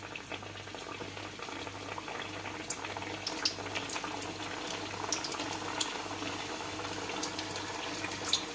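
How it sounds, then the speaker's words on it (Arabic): Mhancha pastries frying in hot oil at medium heat: a steady, fine bubbling sizzle with faint crackles and occasional pops, close and fairly quiet. "ساليت البريوات ديالي غادي ندوز باش نقلي المحينشات"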